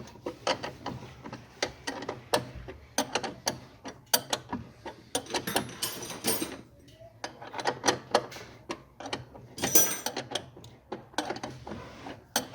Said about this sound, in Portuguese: Pega a catraca 10 vezes, né?